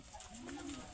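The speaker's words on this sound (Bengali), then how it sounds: "কবুতর" A pigeon coos once in a low, soft, gliding call over steady background noise, close by, among farmyard hens.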